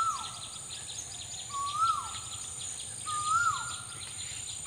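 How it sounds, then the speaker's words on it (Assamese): An Asian koel calls in a home garden with three rising, whistled notes spaced a couple of seconds apart. The notes are fairly clear against a steady hum of insects. "ইয়া কুলিৰ মাত।"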